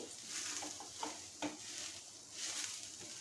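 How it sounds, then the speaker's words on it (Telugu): Grated coconut being lightly roasted in a pan over a low flame, with soft scraping stirs and a few sharper clicks of the spoon against the pan, fairly quiet and steady with no talking. "మనం కొబ్బరి తురుము తీసి లైట్గా వేపుకుందాం"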